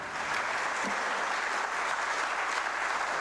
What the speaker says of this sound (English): Shall we welcome her with a big round of applause?